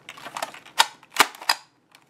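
Keys on a dirty Apple Adjustable Keyboard clack under the fingers, a handful of loud, sharp plastic presses with brief pauses between them.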